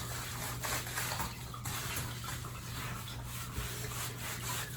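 Person bathing frugally with a single gallon of water, soft continuous splashing and rubbing of water against skin, close and steady without speech.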